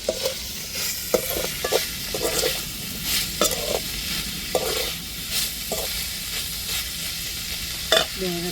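Dried fish frying with onions in a pan for a karuvadu thokku, with steady sizzling broken by repeated scraping stirs of the spoon, close and fairly loud, no voices.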